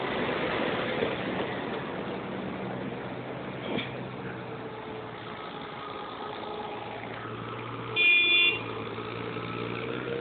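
A car passing on a rural road beside irrigation canals, a low engine hum swelling and fading, with a brief horn toot near the end, fairly faint.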